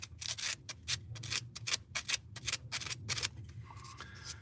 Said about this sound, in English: I've got to put a little bit of sandpaper in there.